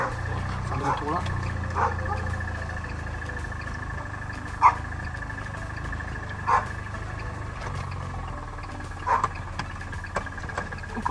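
A dog barks several times at irregular intervals, the barks moderately faint and spaced apart over a steady low engine hum.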